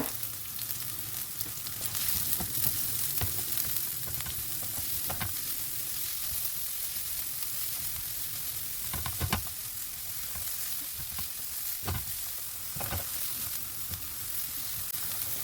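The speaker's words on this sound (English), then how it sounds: "So I'm adding my onions, as you can see. We'll fry them a little bit" Steady sizzling of onions frying in a pan, with occasional louder stirring scrapes and clanks throughout, no voices.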